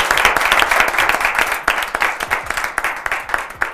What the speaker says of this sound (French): Applaudissez pour toute l'équipe.